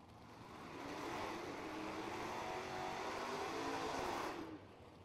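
Dragster at a bracket racing drag strip launching and tearing away, heard as a distant, rising roar that swells over several seconds and then cuts off, with no talk over it.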